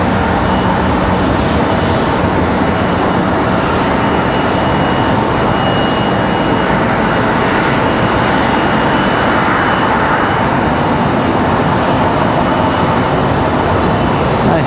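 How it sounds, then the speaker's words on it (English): A CRJ regional jet taxiing toward the gate at Raleigh-Durham International Airport, its engines a steady, loud, broadband roar that holds for the whole stretch without any break or change. "hear that CRJ making its way into the gate"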